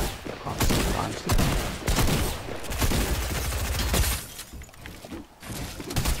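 Rapid bursts of gunfire from a gun in the Fortnite video game, loud and dense, with repeated volleys and sharp shots filling most of the stretch and only brief pauses.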